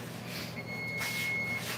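A kitchen timer sounds one steady, high electronic beep lasting about a second, with a faint low hum underneath and no speech.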